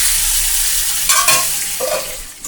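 Tilapia fish frying in oil in a pan just uncovered after cooking on medium flame, a steady close sizzle with a brief stirring scrape midway.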